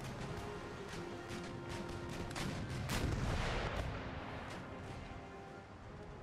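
A sailing warship fires its cannons during a naval battle in Empire: Total War. Rolling, overlapping booms build to a heavy burst in the middle, then fade into continued rumbling gunfire. The sound is fairly quiet overall.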